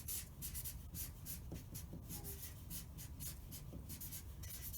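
Pen writing on a journal page in a classroom-style lesson, a soft continuous scratching and rubbing with short rhythmic strokes, faint and close against a low hum.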